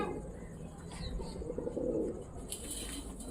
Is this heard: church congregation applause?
no